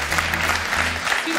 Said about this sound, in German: warum jetzt Malte im Publikum mehr Applaus bekommt als die Leute im Olymp und die Influencer